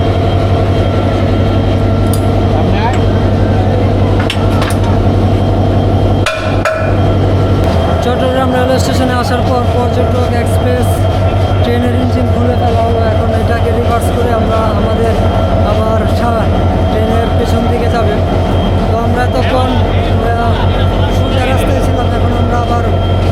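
Parjatak Express 816 running on the rail line to Cox's Bazar, a loud continuous rumble and clatter of the train, with a brief sharp knock partway through and talk over much of it.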